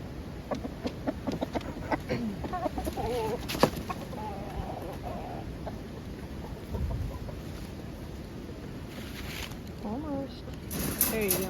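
Chickens clucking and calling inside a winter coop, irregular bird calls scattered close by, with people talking and bustling through the scene.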